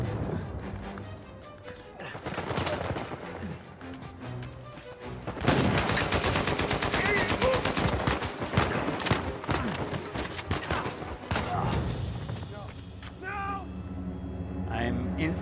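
Heavy enemy gunfire rings out in Uncharted 4, with dense overlapping bursts and shots growing loud and sustained through the middle stretch, mixed with game sounds and a voice talking over it.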